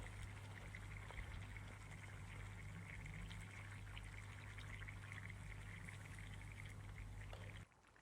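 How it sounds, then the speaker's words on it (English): Cooked beans are poured into a simmering Ghanaian stew, giving a close, continuous wet sliding pour over a low steady hum, then stopping abruptly just before the end. "Now my stew is cooked, so I'm adding the cooked beans."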